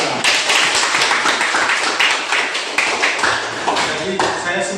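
A classroom group claps together after a teacher's prompt during a lesson on corrosion, a steady burst of many hands at close range lasting throughout.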